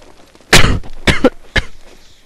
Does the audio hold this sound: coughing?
yes